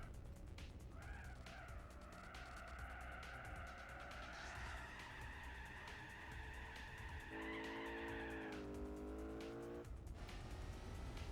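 Muscle car wheel spin in Gran Turismo 4, a loud, sustained tire squeal that holds and shifts pitch over a steady engine roar, lasting several seconds.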